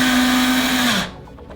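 Power drill driving anchors into a wall while mounting acoustic sound panels: one loud, steady whine that runs about a second, then winds down and stops, leaving faint room noise.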